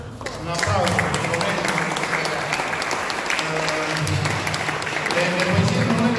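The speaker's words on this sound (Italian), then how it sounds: "Un applauso." An audience gives sustained applause at a poetry event, a thick, continuous patter of many hands clapping at close range, with some voices mixed in underneath.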